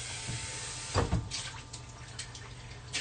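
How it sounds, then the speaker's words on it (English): Tap water runs into a blender jar to rinse it out at a kitchen sink. It makes a steady splashing rush with a louder gush about a second in. "I'm going to get some water in here and kind of rinse this out while I'm waiting."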